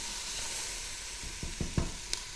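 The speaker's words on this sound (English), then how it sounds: "got the bacon, the onions. That is sauteing up extremely quickly." Bacon, onions, garlic and ginger sauté in a pressure cooker pot with a soft, even sizzle, joined near the end by a few quick spatula scrapes and light taps.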